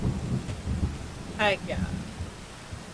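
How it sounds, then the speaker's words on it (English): Rain and rumbling thunder in the video game Rain World, a steady wash of rain with low rolling thunder underneath, moderately loud throughout; a voice speaks briefly over it. "It's not pre-cycle rain. It's just rainy here."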